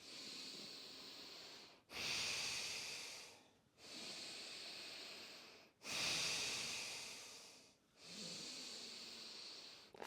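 Slow, deep breathwork inhales and exhales alternate in long, steady airy phases of about two seconds each, close and clear, with brief pauses between breaths and no talking.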